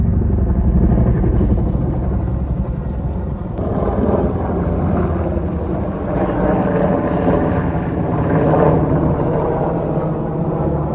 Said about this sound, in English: It's the Chinook.